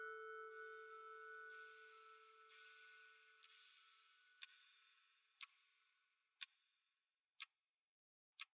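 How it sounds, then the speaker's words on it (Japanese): A clock's second hand ticks in a quiet room at night, about one sharp tick per second, clear and alone, with a fading high tone underneath at the start. "時計の秒針が進む音"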